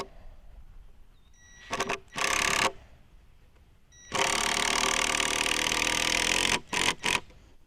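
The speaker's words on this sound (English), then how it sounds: "this is the best drill we've ever had" A power drill drives screws while building wooden raised garden beds, running in two short bursts and then one long sustained whir of about two seconds, ending with quick trigger pulses; loud and close with no talking.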